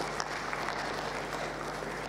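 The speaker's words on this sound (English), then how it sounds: "Give a round of applause for him" Audience applause at a Tanzanian ICT conference, a steady, moderately distant wash of clapping lasting a couple of seconds with no voices over it.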